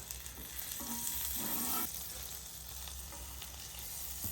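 Bacon grease and a pat of butter hitting a hot griddle, a faint steady sizzle with a short louder crackle as the butter lands, then settling back to a soft hiss.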